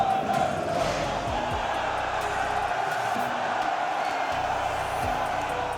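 Football fans roar steadily in crowded stadium stands, a dense, continuous wash of cheering and chanting voices that stays loud and unbroken throughout, with no single voice standing out.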